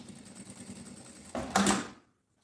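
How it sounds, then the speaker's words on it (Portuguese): A sewing machine runs a short stitch along the tip of a bag handle, with a soft rhythmic whir building to a brief louder burst before stopping into silence. "passo uma costura aqui na pontinha"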